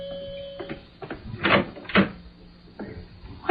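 A door opens in a studio radio drama episode, a few short knocks and clunks of the latch and hinge spaced across a quiet room, with a soft thud near the middle and no voices.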